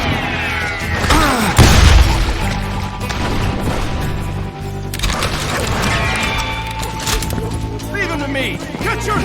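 Gunfire crackles through a busy Old West street battle in the video game Call of Juarez Gunslinger, with a heavy boom near the start and dense, continuous clatter and crashes layered under shouting voices.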